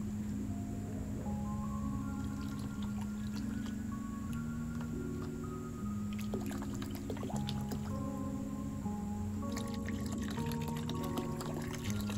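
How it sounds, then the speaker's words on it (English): Vinegar poured into a water fountain, a steady liquid trickle with gurgling tones under a constant faint hum, no talk. "I'm gonna start pouring vinegar."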